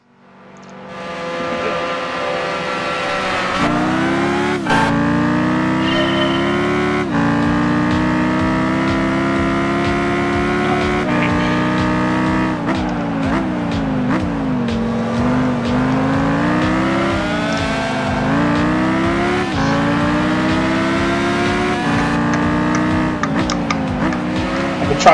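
Audi R8 Le Mans race car in a German Touring Car Championship racing game, a loud, continuous engine roar rising in pitch through repeated upshifts, with brief dips between gears and occasional tire noise.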